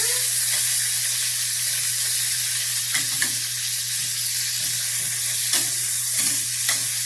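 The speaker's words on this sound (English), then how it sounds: "You want to get it nice and seared. Hear that bubbly sound here." Steady sizzling and bubbling of chicken searing in a hot pan, with occasional clinks and scrapes of a utensil stirring, close and continuous.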